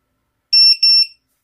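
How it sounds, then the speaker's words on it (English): A Vifly Beacon wireless drone buzzer sounds two loud, shrill electronic beeps in quick succession, each with a brief stutter, piercing and close against total silence. "It's alarming now."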